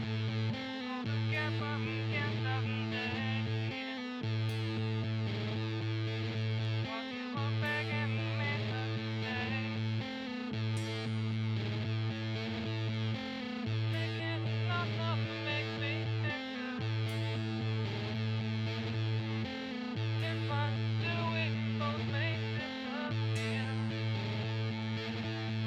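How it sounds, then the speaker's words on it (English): Heavy, fat guitar distortion, thick sustained distorted chords in a steady repeating groove with regular rhythmic breaks, loud and continuous throughout. "Boy, they love them some Fat Distortion."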